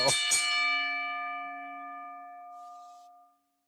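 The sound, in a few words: wrestling ring bell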